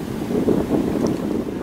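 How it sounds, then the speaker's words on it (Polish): Wind blowing beside a river, a low steady rushing and buffeting noise that swells and eases over a couple of seconds, close and continuous with no voices. "Z racji na wiaterek, no nie jest to wietrzycho."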